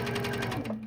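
A sewing machine stitches rapidly during free motion quilting, a close, rhythmic mechanical chatter that lasts under a second before fading out.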